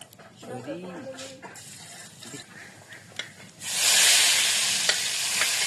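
Dried fish is dropped into oil in a pan, starting with light scraping and stirring noises before a loud, steady frying sizzle takes over for the last couple of seconds.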